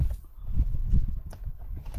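Hooves of a horse with ringbone thump and shuffle on the ground in a loose, irregular rhythm during an equine treatment session, close and fairly loud, with no speech.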